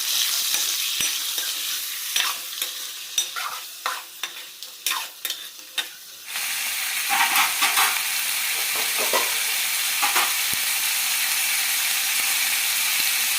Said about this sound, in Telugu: నూనె బాగా కాగింది కదా, ఇందులోకి చికెన్ వేసుకున్నాం. ఇదంతా బాగా కలిపెడతాం.